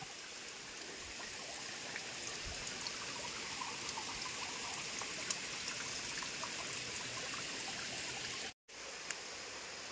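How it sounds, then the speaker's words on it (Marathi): A stream near a village well gurgles and trickles steadily at low volume, a continuous watery babble with faint splashes and no talk. "सगळीकडून असे खळखळणारे पाण्याचा आवाज"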